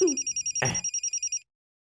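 A mobile phone rings in a dubbed action movie with a rapid series of about a dozen short, even electronic ring pulses, close and clear. A brief noisy burst interrupts partway, then the ringing cuts off into silence.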